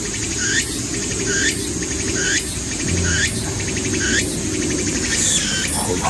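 Cicadas sing loudly and close by in a field being cleared for a farm plot, with repeated rhythmic pulsing phrases about once a second over a constant buzzing drone.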